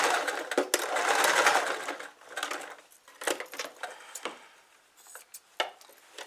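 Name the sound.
sewing machine sewing quilt binding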